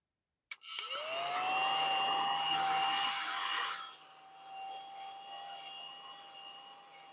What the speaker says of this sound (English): This doesn't suck a lot, but maybe it needs to be charged.